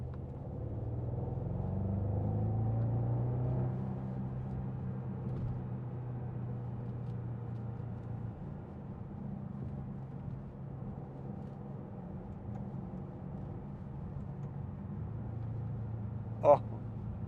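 A 2014 Bentley Continental GT V8 S with a 4.0 V8 engine drives on a straight road, its low engine rumble heard from inside the cabin, swelling early then holding steady, with a sharp click near the end.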